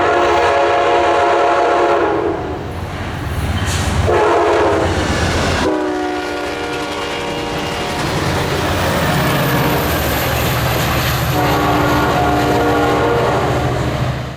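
Amtrak Piedmont passenger train in North Carolina passing close by, led by locomotive 38, with a loud sustained multi-note horn sounding in several blasts over the steady roar and rumble of the train.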